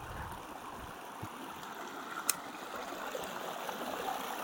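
A stream at Baca Campground runs as a faint, continuous rush and trickle of water, with a brief sharp click partway through.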